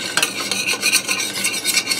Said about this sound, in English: You just want to work your spatula around in there and get all that goodness scraped up.